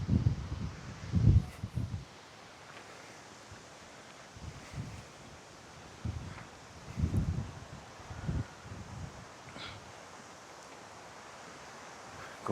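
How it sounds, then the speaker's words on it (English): Wind on a lakeside walk at Telford Lake, gusting in bursts that rumble against the microphone over a faint background rustle of leaves. "But wow, is it ever windy?"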